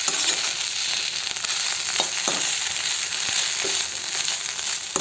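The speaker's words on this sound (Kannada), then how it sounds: "ಬೆಂಡೆಕಾಯಿ ಚೆನ್ನಾಗಿ ತೊಳ್ಕೊಂಡು ಕಟ್ ಮಾಡಿ ಸ್ವಲ್ಪ ಎಣ್ಣೆ ಹಾಕಿ ಹುರಿತಾ ಇದ್ದೀನಿ." Cut okra frying in a little oil in a pan, a steady close sizzle throughout with occasional stirring scrapes and pops.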